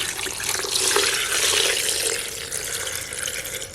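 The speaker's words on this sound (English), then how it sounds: "I'm gonna pour in my water." Water pours steadily into a Nama M1 plant milk maker while lemonade is made with lemon and mango, a continuous splashing rush that stays fairly loud and even for the whole few seconds with no talking.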